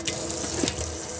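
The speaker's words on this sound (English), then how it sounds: "you come over to every tap on board the caravan and open all the taps up on the hot side" Water gushing from an opened hot-side tap inside a caravan, a steady splashing rush close by and fairly quiet, with no talk.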